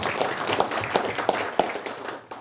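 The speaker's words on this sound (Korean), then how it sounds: "다시 한번 박수 부탁드립니다." Applause ripples through the audience at a Korean ceremony, a few seconds of quick scattered claps with sharper individual hits, fading toward the end.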